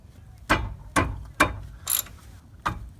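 Ratchet wrench with a 15 mm socket working a brake caliper bracket bolt on a 2003 Ford Taurus, giving five sharp, close clicking bursts spaced about half a second apart with quiet gaps between.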